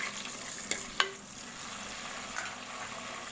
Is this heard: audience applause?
no